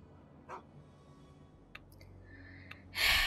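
A dog in the video game Fallout gives a few soft, short barks and yips spaced apart over a quiet background, followed by a louder burst of noise at the end.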